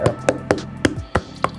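A shoe knocked against a surface to shake out dust during cleaning: six sharp, evenly spaced knocks, close and fairly loud, with no talk over them.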